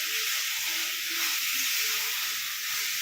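Spice paste (masala) fries in oil for chicken kosha, a loud, continuous bright sizzling hiss that holds steady throughout without pauses or voices.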